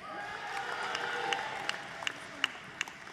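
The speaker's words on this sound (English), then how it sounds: "give all our graduates another warm round of applause" Audience applause for graduates at a university commencement ceremony, a steady wash of clapping from a large crowd with a few sharper claps standing out nearby.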